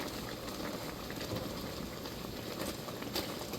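Homemade jam bubbling as it boils in a pot, a close, constant thick popping and gurgling that holds at an even level.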